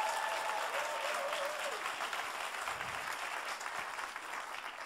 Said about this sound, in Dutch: dus geef haar even een hartelijk applaus